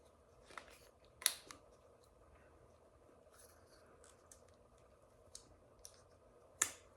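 Dull blades snip at a urethane nozzle tip during a DIY windshield replacement, giving a few faint, sparse clicks and cuts with a quiet room between them.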